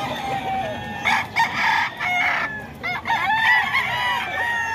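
Several young fighting-cock stags crow loudly and close, their drawn-out calls overlapping with clucks from other gamefowl in a busy pen.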